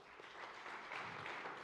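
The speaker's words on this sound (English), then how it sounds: "So a huge round of applause for Mr. Manjana." Faint, distant applause from an audience at a farmers' recognition event, a soft continuous patter of many hands clapping at low volume with no speech.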